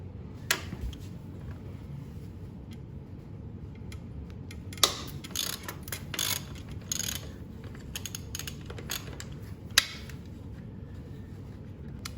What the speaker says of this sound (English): So the next step is to remove the shock mounting bolt.